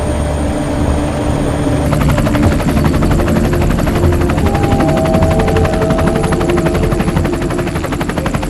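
A helicopter flies low overhead on a search, its rotor beating in a loud, rapid, continuous chop with an engine drone beneath, close and dominant throughout, with no voices.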